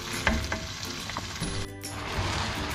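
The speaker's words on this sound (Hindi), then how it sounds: "अब मैं इस चिकन को इतना भूनूंगी कि फ्राई करूँगी कि ये इसका कलर चेंज हो जाए" Chicken pieces frying in a pan, a soft steady sizzle with a few light stirring clicks and scrapes, close but quiet, no talking.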